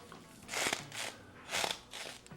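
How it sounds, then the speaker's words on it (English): A knife crunches through the firm, fibrous base of an artichoke in a few short cuts, close and crisp, with brief pauses between strokes. "We are going to cut the bases off."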